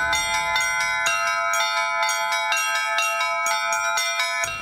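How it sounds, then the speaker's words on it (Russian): Church bells rung in a bell tower, several bells struck in quick succession, each stroke ringing out loud and close, with bright overlapping tones that sustain between strikes. "стала звонить в колокола"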